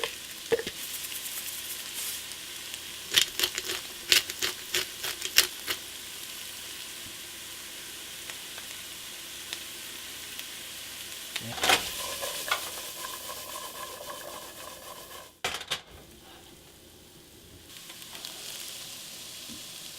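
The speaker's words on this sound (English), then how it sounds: "I'm going to take my chopped onions, peppers, and carrots" Chopped onions, peppers and carrots sauté in hot oil in a pan, giving a steady soft sizzle with a burst of stirring clatters early on and another near the middle, with no talking.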